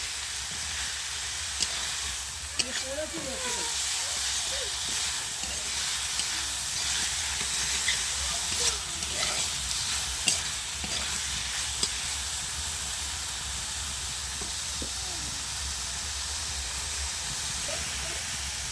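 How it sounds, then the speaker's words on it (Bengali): Red amaranth greens (note shak) frying in a pan give a steady, dense hiss and sizzle for the whole stretch, with faint scattered pops and a low background rumble, close and continuous, no talking. "নোটে শাক ভাজা হচ্ছে নোটে শাক একটু ভাজা করে নিচ্ছি"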